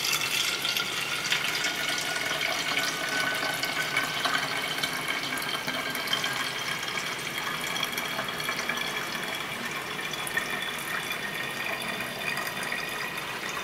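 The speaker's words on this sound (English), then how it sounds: "I just like to take my cup and just slowly pour water into the base." Water is poured slowly from a cup into the base of a 5' 7" gold Harem hookah, a steady, close splashing trickle that runs unbroken for the whole stretch with no talking.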